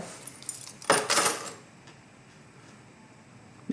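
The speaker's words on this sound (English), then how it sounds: "This right here is the heavier keys." A heavy bunch of keys jangles briefly and loudly in one burst, with a few small metallic clicks before it, indoors by a desk. No one talks.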